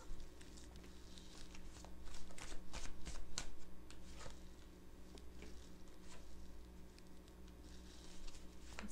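Oracle answer deck cards shuffled and drawn by hand, with soft, quiet riffling and flicking in uneven bursts over a low background hum.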